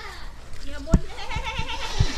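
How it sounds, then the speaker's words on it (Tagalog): A goat bleats in a wavering, nasal voice, close by, while people talk over it and a few sharp knocks sound. "may sinasabi ang kambing"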